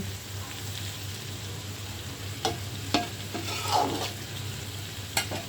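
Chopped onion sizzles and fries in hot oil for a beef liver bhuna, a steady broadband crackle with a low hum beneath and a few sharp clinks of a spatula stirring against the pan.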